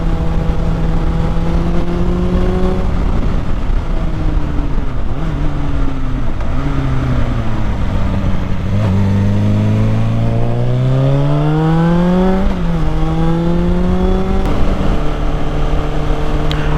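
A Suzuki GSF600 Bandit motorcycle fitted with a Delkevic exhaust idles loudly, then revs up and down in several rising and falling sweeps, a close, droning engine note with no voices.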